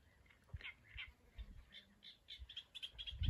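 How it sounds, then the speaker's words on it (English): A great reed warbler sings at Wild Ken Hill in Norfolk, giving repeated harsh, chattering phrases in short bursts. It sounds moderately distant and fairly faint against a quiet outdoor background, with no talking. "This is a great reed warbler."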